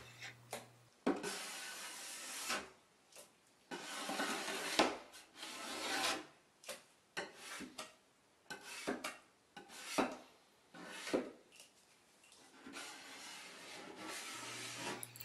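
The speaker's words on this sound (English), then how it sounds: "with a clean scraper, you can scrape all of the rest off in one go" A scraper strips softened finish off wet wood panelling in repeated close, raspy strokes of one to two seconds each, separated by brief pauses, with no talking.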